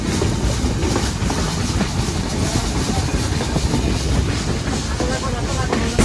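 Sundarban Express train rolling through green countryside toward Jashore, a loud steady rumble with rattling wheels and hiss filling the whole stretch, heard from on board.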